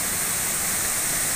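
Lungkuk waterfall, a wide fall with heavy water volume, roaring as a steady, dense rush of water with no pauses or changes.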